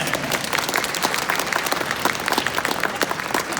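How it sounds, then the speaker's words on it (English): A crowd at a fan expo panel applauds steadily, a dense patter of many hands clapping at the same level throughout. "Give them a round of applause."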